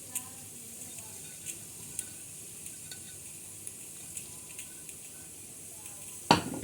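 Hot oil seasoned with asafoetida hits chili pickle and gets mixed in, giving a soft, faint sizzle with light stirring scrapes and a sharper clank near the end.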